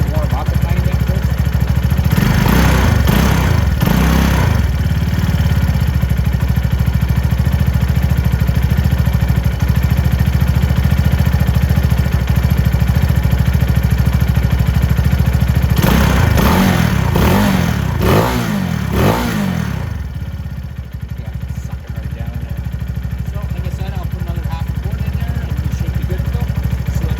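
A Venom X22R Max 250cc motorcycle engine runs steadily at close range while it warms up, with two short bursts of revving about fifteen seconds apart. The engine keeps going throughout and drops to a quieter idle near the end.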